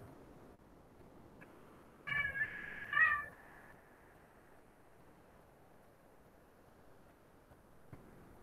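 A cat gives two short meows close by, a second apart, against a quiet indoor background.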